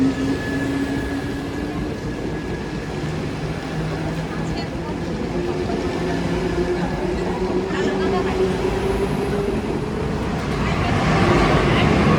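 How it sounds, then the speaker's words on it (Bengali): A train rumbles past close by, steady rolling noise with faint tonal whines, gradually building louder as it moves off; voices murmur underneath. "আমাদের ট্রেনটা চলে গেল"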